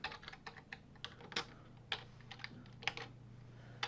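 Typing on a computer keyboard while writing Python code, a steady run of light, quick key clicks with a few heavier taps, close by and alone over a faint low hum.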